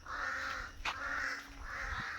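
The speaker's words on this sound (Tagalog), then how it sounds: "Daming uwak pa eh." Crows caw outdoors in a rural Philippine setting, with three harsh calls spaced evenly over a couple of seconds, fairly distant over a quiet background.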